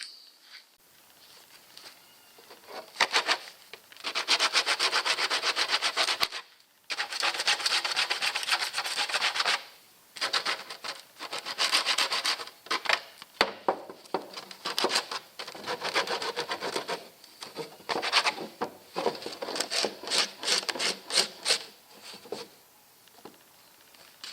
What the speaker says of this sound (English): get rid of all the sharp edges with this bit of sandpaper